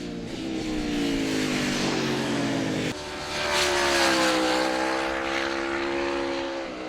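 A 2022 Norton V4SV superbike's V4 engine revs hard under acceleration on the road, its rising, sweeping engine note loud and close with a brief shift dip near the midpoint, then climbing again; no talk.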